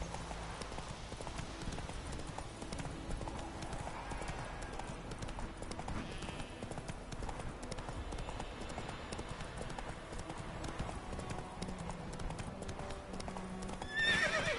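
Hooves of the horse Roach gallop in the Witcher 3 video game, a steady fast clip-clop running throughout with occasional whinnies over a continuous game soundscape.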